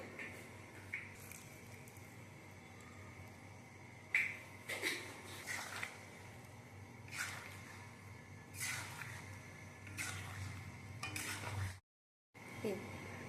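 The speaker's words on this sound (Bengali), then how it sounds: "এতে সামান্য গরম মশলা এবং ঘি দিয়ে নেড়ে ছেড়ে" A spoon stirring mung bean dal with fish head, garam masala and ghee in a pot, soft scraping and clinking strokes over a low simmering hiss, with a brief drop to silence near the end.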